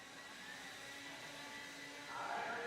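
Blowers whir at an RC car race track during a Desert Classic qualifying day, a steady distant airy roar that grows slightly louder near the end, with no talking.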